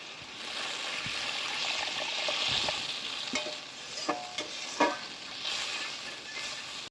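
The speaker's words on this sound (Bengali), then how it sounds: "সর্ষে ইলিশের ঝোলের জন্য আমি আরও একটু জল দিয়ে দেবো।" Mustard hilsa fish curry bubbles in a pan with a steady broadband sizzle, broken by a few short splashy clinks and pours of added water toward the end; no talking.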